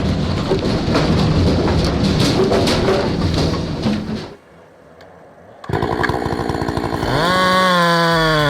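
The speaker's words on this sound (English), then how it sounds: "Chainsaws screaming, right?" A big chainsaw on an automatic firewood processing machine cuts through logs with a loud, harsh roar, drops to near silence for about a second, then screams back to full revving speed.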